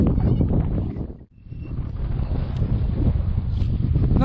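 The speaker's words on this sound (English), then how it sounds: "It's gone from being really, really smooth to being really, really windy" Strong wind blows across a lake shore, roaring as low rumbling buffets against the microphone, briefly easing for a moment before gusting back up steadily.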